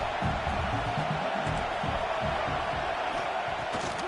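A college football stadium crowd roars in a steady, dense wash of cheering and noise throughout, with no break or lull.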